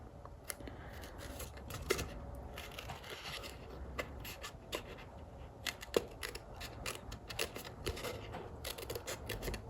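Scissors snip through paper while a scrapbook layout is being made, a faint, quiet series of irregular crisp cuts and paper rustles close by, with no speech.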